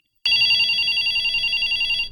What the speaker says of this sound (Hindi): तो सेम नंबर के ऊपर मैंने जो है डायल कर दिया मोबाइल से, तो यहाँ पर रिंग बजेगी।